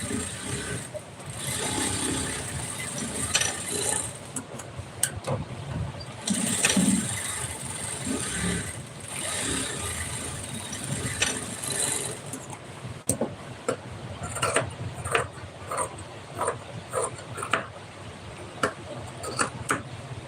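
A sewing machine stitches thread piping in a ladies' tailoring setting, running in uneven bursts of rapid mechanical ticking and whirring, stopping and starting repeatedly at close range.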